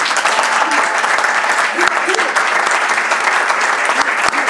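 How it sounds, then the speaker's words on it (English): A large crowd applauds graduating Garda recruits at a passing-out ceremony, sustained loud clapping filling the space evenly throughout, with faint voices beneath. "Please give them a big round of applause."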